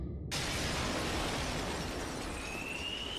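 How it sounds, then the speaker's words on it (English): A sudden loud burst of breaking glass as a house window shatters in Minecraft, followed by a sustained noisy crash that fades into a faint high tone. "The glass window's all shattered!"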